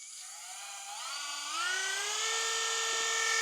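A Dremel 8150 rotary tool runs alone at close range, its high whine climbing in pitch over the first two seconds as it speeds up, then holding a steady tone.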